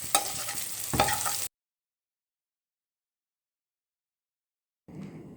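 Sliced bitter gourd (karela) frying and being stirred in a pan: steady, close sizzling with scraping stirs that cuts off abruptly to silence, then returns faintly near the end.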